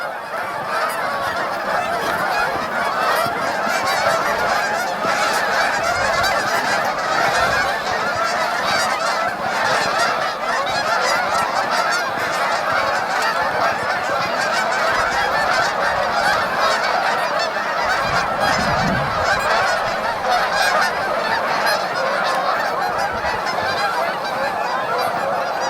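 Constant, dense honking from geese on an icy river near a beaver lodge, loud and steady throughout with no voices.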